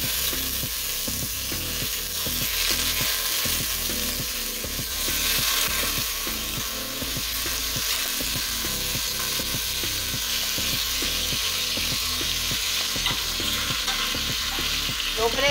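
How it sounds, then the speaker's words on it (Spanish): Chicken pieces, skinned and trimmed of fat, sear in hot oil in a pot, giving a steady, fairly loud sizzle with a busy crackle of spitting oil throughout, close and uninterrupted, with no talking. "suficiente aceite para sellar nuestro pollo"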